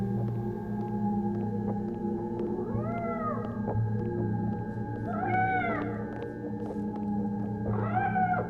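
A cat in the video game Life is Strange: Double Exposure meows three times, rising and falling, with a few seconds between calls, over a steady low musical hum.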